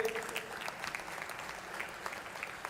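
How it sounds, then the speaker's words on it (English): Audience at the IIT Madras E-Summit 2026 applauds a guest, a steady dense wash of clapping from a large crowd filling the whole stretch without speech. "Please give a round of applause to him."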